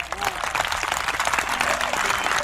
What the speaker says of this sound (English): our virtual applause will have to be extra loud tonight